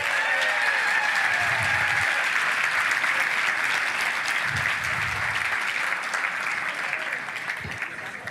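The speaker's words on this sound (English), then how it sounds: "Give him a round of applause." Hundreds of people at a charity fundraiser auction applaud loudly and steadily for several seconds, the clapping tapering slightly toward the end, with a few low voices underneath.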